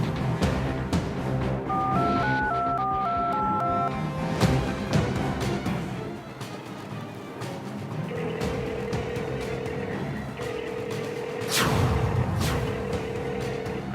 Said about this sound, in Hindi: फोन लगाओ उसे।